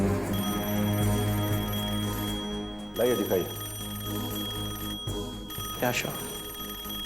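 A mobile phone alarm rings indoors with a steady, repeating electronic tone that keeps going throughout, while people talk over it.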